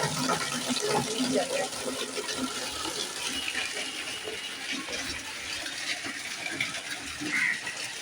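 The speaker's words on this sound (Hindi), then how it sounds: "अभी मैं कपड़े धो लूँगी।" Water gushes steadily from a tap in a home while clothes are washed by hand, a continuous broadband rush with some splashing, close and fairly loud throughout.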